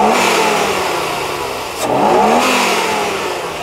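BMW double VANOS engine, freshly repaired fuel hose, revving up loud and close, dipping briefly midway before climbing again, with steady mechanical drone and no talking.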